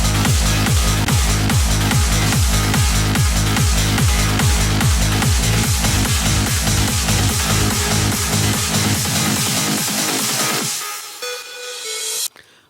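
A full hard trance mix: a pounding four-on-the-floor kick with a bright, dense lead synth playing rapid repeated notes, loud and driving, before the beat drops away and leaves faint, sparse bell-like tones near the end.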